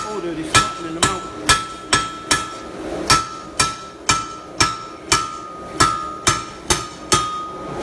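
Metal bars are hammered flat for daffodil leaf sculptures, with sharp ringing strikes landing in an even, regular rhythm, about two a second, loud and close in the workshop.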